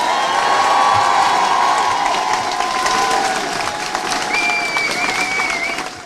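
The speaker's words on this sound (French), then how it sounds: "Un tonnerre d'applaudissements" A large political rally crowd for Jean-Luc Mélenchon in Villeurbanne roars with loud, sustained applause and cheering, dense clapping with shouts and whoops rising over it, plus a whistle-like tone partway through.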